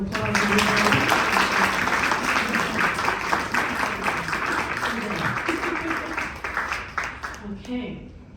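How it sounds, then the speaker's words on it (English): Audience applause at a state senator's awards ceremony honoring local women for Women's History Month: dense, sustained clapping from a room full of people with voices mixed in, tapering off toward the end. "Can we give Sharon another round of applause"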